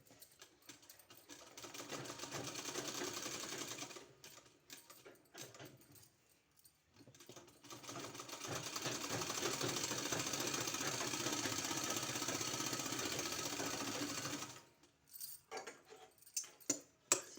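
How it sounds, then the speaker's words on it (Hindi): A sewing machine stitches fabric for a garment neck design, a close, fast mechanical whirring and clatter in two long bursts with short pauses and a few taps between. "और यहाँ हमको इस तरह से सिलाई लगाना है।"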